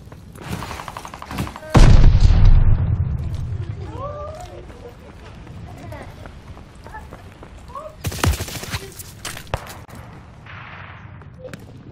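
Video-game gunfire and a grenade blast from Call of Duty Vanguard: a heavy explosion thumps early, followed by scattered shots and a second burst of loud gunfire later, with voices talking over parts of it.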